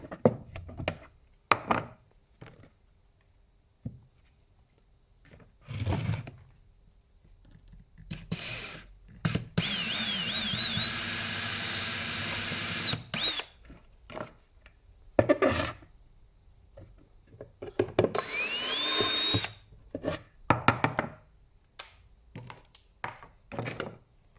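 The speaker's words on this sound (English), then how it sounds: "we're just going to go ahead and drill a couple of holes through this" Power drill boring a couple of holes through lead shot for an axle, the motor whining in two sustained bursts between scattered clunks and handling knocks, close and fairly loud.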